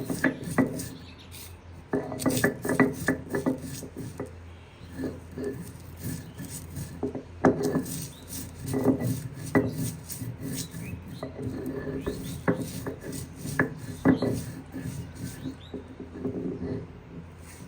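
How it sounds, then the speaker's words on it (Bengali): Crisp fried spices are ground into powder by hand, giving steady, close rough rubbing and rasping strokes in an uneven rhythm that runs throughout with no talking. "এই যে ভাজা মশলা এটা মুচমুচে হয়েছে আমরা গুঁড়ো করে নিচ্ছি"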